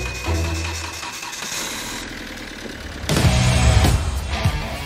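A police car, a Hyundai, fires up after a jump-start with red lead on the negative, its engine catching and revving loudly in a workshop, rising over steady mechanical hum.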